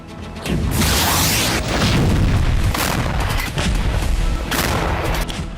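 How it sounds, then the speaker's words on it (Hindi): Loud, continuous blasts and rumbling booms from missile strikes on Kyiv during a cruise and ballistic missile attack, with several heavy bursts rolling one into another over about five seconds. "कीव में मिसाइल हमले से कई धमाके हुए हैं।"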